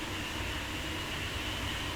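Train Sim World 3 video game train running steadily, a continuous broadband rumble and rush of a long train with no voices over it.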